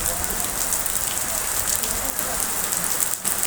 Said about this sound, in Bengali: চারিপাশের পরিবেশটা দেখেন একদম বৃষ্টিতে সব ভেজা ভেজা